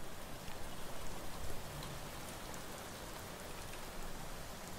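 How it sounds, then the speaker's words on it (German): Constant rain hiss with scattered droplet patter in the game Arena Breakout, fairly quiet and even, with no voices. "Regen gibt es auch, sehr interessant."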